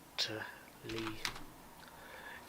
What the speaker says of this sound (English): you see me typing